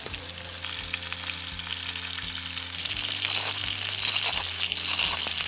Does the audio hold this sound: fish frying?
yes